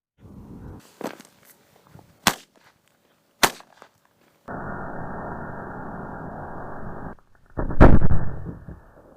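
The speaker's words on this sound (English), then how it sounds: "There were 2 explosions, even though all 4 went off." Several sharp explosive bangs of gas canisters go off one at a time with quiet gaps between them, set on a clay model van. A steady hiss follows, then a louder burst near the end.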